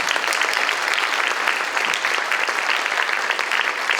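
A steady, dense round of applause fills an honors diploma scholars celebration for honored students, a continuous wash of many hands clapping at an even level from start to finish.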